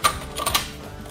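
A Tandy Leather Cowboy Outlaw sewing machine stitches through leather with a back stitch, giving quick mechanical clacks in a brief burst that settles into a steadier, softer rattle.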